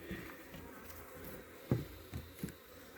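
Steady buzzing of bees around a hive fills the background at moderate level, with a few soft knocks and thumps breaking through near the end.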